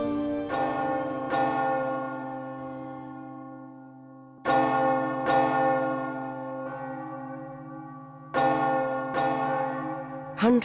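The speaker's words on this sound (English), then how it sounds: "Church bells were rung for every death. The bells were hoarse with tolling." Church bells toll slowly in a plague-era setting, each deep strike ringing out and decaying into a long resonant hum, the strokes coming in spaced pairs across the span.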